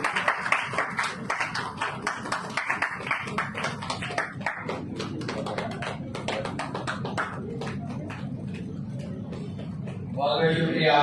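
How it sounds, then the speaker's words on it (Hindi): Audience applause at a Self Awakening Mission programme in Moti Nagar: a dense crowd of rapid hand claps that gradually thins and fades, with a voice speaking near the end. "अर्चना जी के लिए जोरदार ताली हो"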